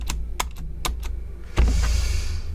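Fast typing on a computer keyboard, a handful of sharp close keystrokes in an uneven rhythm, followed by a sudden louder burst of broadband noise that fills the rest of the clip.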